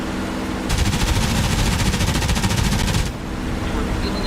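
Sustained burst of F4U Corsair machine-gun fire while strafing in the DCS World War II flight game, a rapid, loud, continuous rattle lasting about two and a half seconds over a steady engine roar.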